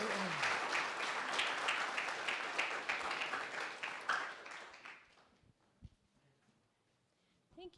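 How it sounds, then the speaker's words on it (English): Audience applause at an academic symposium session, a dense run of clapping for about four seconds that thins out and fades to a few scattered claps and near silence. "Can we give another round of applause for Mailani Takai?"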